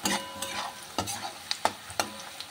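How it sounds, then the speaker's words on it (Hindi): Mushrooms frying with turmeric in a pan outdoors, a steady sizzle broken by several sharp scrapes and clacks of a utensil stirring, close and alone without talk. "मशरूम भी फ्राई हो रहा है"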